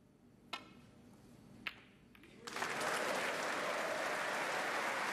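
Snooker audience at the Masters breaking into applause after a shot: two sharp ball clicks first, then a full, sustained wave of clapping from the crowd that holds at a steady level.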